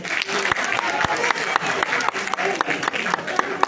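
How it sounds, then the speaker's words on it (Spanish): Warm applause from an audience at a labour union forum on dignified work, dense steady clapping sustained throughout with voices mixed in. "y la recibimos con fuertes palmas"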